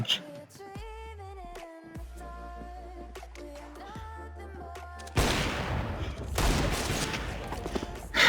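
Gunfire in CS:GO breaks out partway through, a loud close burst of rapid shots and cracks following a quieter stretch of tonal game sound.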